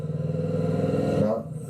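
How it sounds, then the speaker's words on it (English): Kawasaki Vulcan S motorcycle engine revving up from idle, its steady low throb rising in pitch and loudness before dropping back near the end, heard close up with no talking. "You just increase the revs a bit,"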